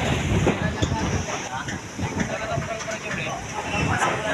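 Strong wind buffets the microphone on an island coast near waves and boats, a constant loud roar with gusty surges, while someone speaks over it.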